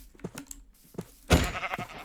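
A Minecraft sheep gives a few short bleats in a survival game, followed by a louder thudding hit, all fairly close and with little else around.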